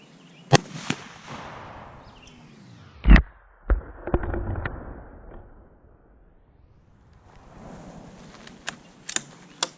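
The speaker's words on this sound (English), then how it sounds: "once he's done shooting there, he turns the weapon back to safety" Several sharp gunshots are fired at a bottle target outdoors, loud cracks spaced irregularly with faint rustling and a soft rumble between them.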